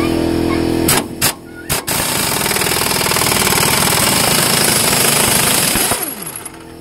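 Air impact tool rattling loose a front strut nut on a 2004–2008 Ford F-150, with a few sharp bursts followed by a long, loud continuous hammering run that eases off near the end.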